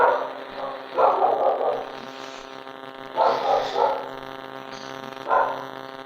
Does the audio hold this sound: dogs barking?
yes